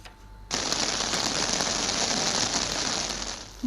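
Heavy rain pours down steadily during monsoon flooding in Sylhet, Bangladesh, a dense, even hiss of drops on surfaces that starts abruptly after a quiet moment and holds loud and constant.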